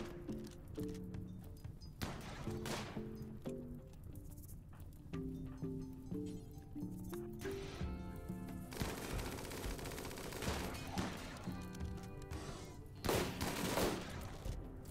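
Minigun fire in the RimWorld video game rattles in rapid bursts amid a chaotic firefight, with repeated sharp gunshots layered over game music, fairly quiet overall.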